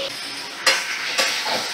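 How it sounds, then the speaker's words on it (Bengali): Pumpkin pieces being stirred in a frying pan after ginger-garlic paste is added, a steady sizzle broken by two distinct scraping strokes of the spoon, close and alone with no talk. "এবার একটু ভালো করে কুমড়োটা নাড়াচাড়া করে নেব।"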